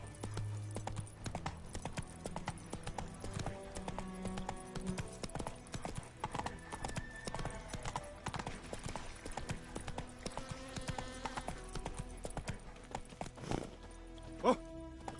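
Roach the horse gallops in The Witcher 3 on PS5, a fast rhythmic clip-clop of hooves that runs throughout under in-game music and a few brief spoken lines.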